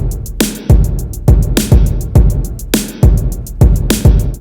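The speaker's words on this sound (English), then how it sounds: "So I have this basic drum loop here with Valhalla reverb on both the kick and snare" A basic drum loop with Valhalla reverb on kick and snare plays loud and steady, the kicks booming and the snares cracking into a long washed-out tail, with busy hi-hats on top and no talking.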